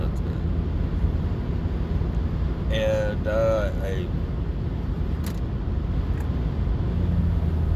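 A Toyota Previa All-Trac van with its catalytic converter removed drones with a loud, steady exhaust rumble while driving, and a person talks briefly over it.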